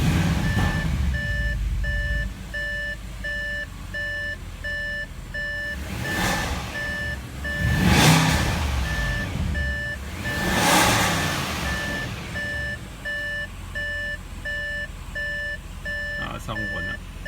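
An Audi RS7 engine runs after a turbo replacement, holding a low idle with several rising revs, while steady electronic beeping tones sound throughout.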